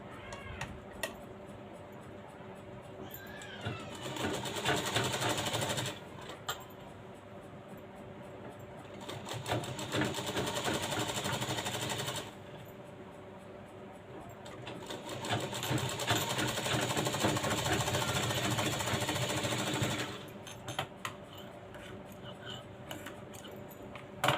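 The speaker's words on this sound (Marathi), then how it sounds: "इथं आपण डबल शिलाई घ्यायची आहे" A sewing machine runs a double row of stitching on a lined blouse, whirring in steady bursts of several seconds each, separated by brief pauses, with no talk.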